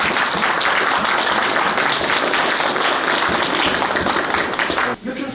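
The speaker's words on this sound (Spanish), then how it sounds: "les pido un voto de aplausos" Applause from an audience at a Spanish-language event honoring writer Omar Aramayo, a broad steady wash of clapping sustained for about five seconds before briefly dipping near the end.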